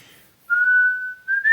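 A person whistles a single steady, sustained tone for about a second, then a short higher rising note, close and clear, to a baby in an otherwise quiet room.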